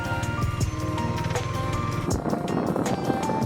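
A Honda CB250R motorcycle rides on a summer road through the Soya Hills in Hokkaido. A continuous engine and wind roar carries on throughout, with no voices.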